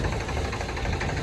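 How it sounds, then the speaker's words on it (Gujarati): A tractor engine runs steadily with a low, continuous rumble and faint knocking rhythm, close and sustained without a break at a groundnut procurement yard. "આપણું ટ્રેક્ટર જાય છે પાછળ"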